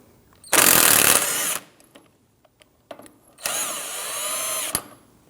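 Power tool spinning a shallow 24mm socket to remove the inner tie rod jam nut on a 2009-2017 Audi Q5, two loud whirring bursts separated by a pause with light clicks and taps.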